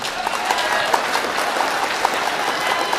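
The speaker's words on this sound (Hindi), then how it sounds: "एक बार हमारे चाचा ताऊ के लिए भी तालियां बजा दीजिए" Loud, sustained applause from the audience at a mushaira poetry gathering in Harra, Meerut, India, dense and steady clapping throughout with faint voices mixed in.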